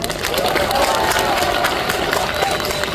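A concert crowd claps and cheers for a trot singer on stage, a dense continuous wash of applause and shouting voices that stays loud and even throughout.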